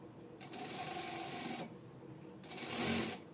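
A sewing machine stitches princess-cut blouse fabric in two quiet bursts of rapid whirring, the first just over a second long and the second shorter, separated by a brief pause.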